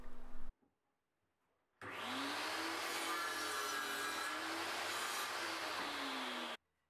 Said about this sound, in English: I can cut all four pieces down on the miter saw